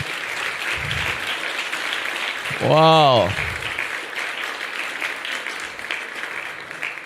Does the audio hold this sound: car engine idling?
no